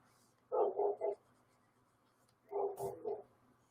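A dog outside barks in two separate bursts of three quick, muffled barks each, somewhat distant and with quiet in between.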